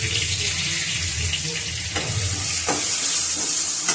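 Okra stir-fried in a pan for a sambar dish, a steady moist sizzle with scraping stir strokes throughout, close and fairly loud, no talking.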